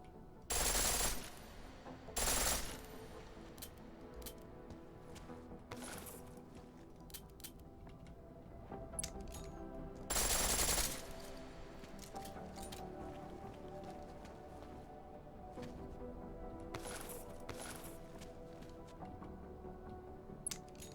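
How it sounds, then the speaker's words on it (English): A pistol fires in full-auto bursts in the video game Deus Ex Mankind Divided, several short sharp bursts spaced apart over quiet background game sound. "The pistol in full auto will take down targets fast"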